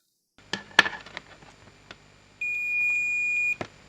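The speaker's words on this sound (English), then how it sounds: "let's go test it out with a multimeter on the continuity and see if it still works" A multimeter set to continuity gives a steady, clear electronic beep about one second long after a few soft clicks and taps from the probes touching a repaired alligator clip.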